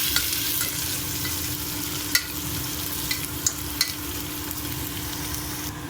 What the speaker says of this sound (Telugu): గోల్డ్ కలర్ వచ్చే వరకు ఫ్రై చేసుకుందామండి ఆనియన్స్.